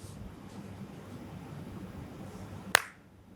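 A single sharp hand clap rings out near the end, crisp and close, over a faint low hum of room noise.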